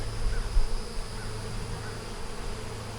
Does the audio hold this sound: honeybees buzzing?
yes